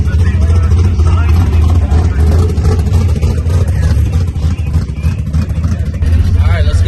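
A classic race car engine runs at a drag strip during a Pro Superstar Shootout, a loud, close, continuous rumble with slight revving swells throughout.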